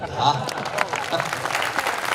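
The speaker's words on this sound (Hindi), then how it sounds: "तालियां मुझे इस पर नहीं, मुझे अगले वाक्य पर चाहिए।" Brief applause breaks out from the audience at a Hindi patriotic poetry recital, a short burst of clapping over a speaking voice.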